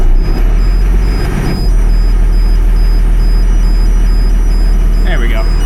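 LMTV military truck engine running steadily with a little hand throttle, a loud continuous low rumble close to the microphone, with brief speech over it.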